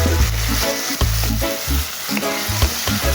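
Chicken liver fries in a pan for sotanghon guisado with a loud, continuous sizzle, broken by repeated low scraping knocks as it is stirred, and no voices.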